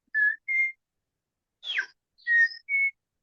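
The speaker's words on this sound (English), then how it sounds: "that's the sound of the bellbird that opens the day." A bellbird sings at dawn in New Zealand bush, five clear bell-like whistled notes in two short groups separated by a pause, alone against quiet.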